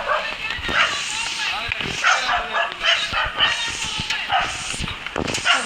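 A dog barks and yips repeatedly in short, rhythmic bursts at moderate distance during a rainy walk past a house, with people talking over the barking.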